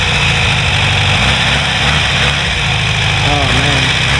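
Off-road buggy engine idling with a steady, loud, low rumble that fills the whole stretch, close by and continuous.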